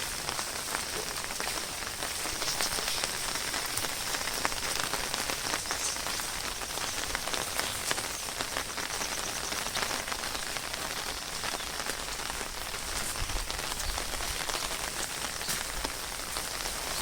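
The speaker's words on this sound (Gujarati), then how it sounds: "વરસાદ જોરદાર જો ને ભાઈ, આ બધીમાં પાણી ભરાઈ ગયા છે" Heavy rain pours steadily over a green village, a dense continuous hiss of drops striking surfaces close by, waterlogged ground, no voices.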